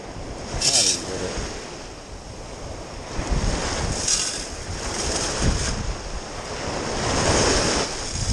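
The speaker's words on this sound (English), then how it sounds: "Man, the waves are pounding me." Ocean surf breaks in repeated loud surges close by, with steady wind buffeting the microphone throughout and no clear talk.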